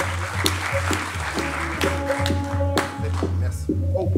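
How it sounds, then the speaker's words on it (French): Audience applause at an improv theatre festival in Paris, dense clapping close by with a low tonal hum underneath and some speech mixed in. "On peut l'applaudir, Cécile."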